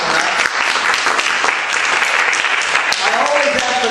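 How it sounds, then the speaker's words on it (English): A crowd at a talk on democracy breaks into dense, steady applause that fills the whole stretch, with voices and cheers mixed into the clapping. "So now we get a round of applause for the hands that just went up."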